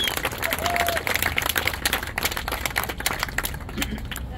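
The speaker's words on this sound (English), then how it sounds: "they just deserve another round of applause." Applause from a crowd at a Caltrain 160th-anniversary celebration honouring SamTrans employees, steady dense clapping filling the whole stretch with some voices mixed in.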